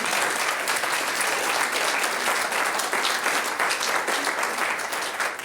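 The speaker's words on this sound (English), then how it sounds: "I think that deserves a round of applause." An audience breaks into sustained applause, a thick wash of clapping that holds steady and only starts to thin in the final moment.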